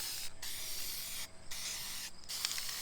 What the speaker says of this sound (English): Take our black. Spray paint art. And cover the rest of it.